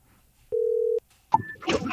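A telephone call placed to a professional bass angler practicing on Lake Hartwell begins with a single steady half-second tone, a brief pause, and then a voice answering on the line.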